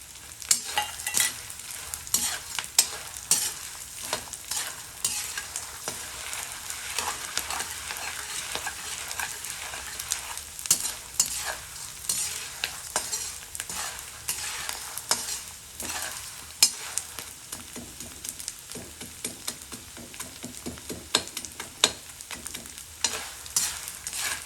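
Kamarkas fries in ghee while being stirred for panjiri, giving a steady sizzle across the whole stretch with frequent scraping strokes of the stirring, close and without talk.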